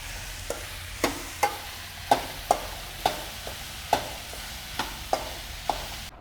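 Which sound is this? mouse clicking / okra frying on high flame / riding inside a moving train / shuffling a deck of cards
okra frying on high flame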